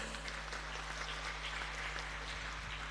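Steady applause from a ceremony audience at a Nahdlatul Ulama centenary gathering in Keerom, Papua, with continuous dense clapping held at an even level for a few seconds.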